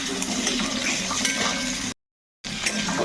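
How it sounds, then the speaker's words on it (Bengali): Potato pieces sizzle and crackle in hot oil in a pan, a close, continuous frying hiss with light clinks, broken by a short silent gap before the sizzling resumes. "এখন কিন্তু এই আলুগুলো তেলের মধ্যে ভেজে নেব তো আলুগুলো এই তেলের মধ্যে দিয়ে দিচ্ছি"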